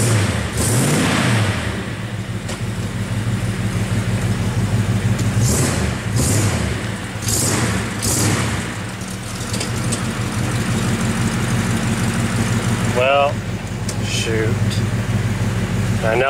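An engine revs repeatedly in a car with a worn, slipping BW 35 automatic transmission that has no drive, the loud rising and falling surges running over a steady idle.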